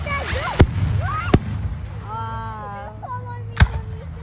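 July 4th fireworks in Huntley, Illinois burst as three sharp, loud booms spaced a second or two apart, with people talking and exclaiming excitedly throughout.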